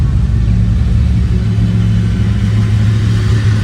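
A 1970 Dodge Charger at a car show engine revs loud and close, a thick, steady low rumble filling the whole few seconds.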